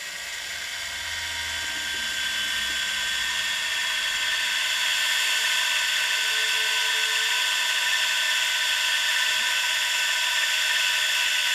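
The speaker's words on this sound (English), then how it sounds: "let me go ahead and start to inject this material there" A dispensing gun with a static mixing nozzle injects silicone into a prosthetic socket, giving a steady high electric whine that builds slightly and holds close and clear for over ten seconds, with no talk.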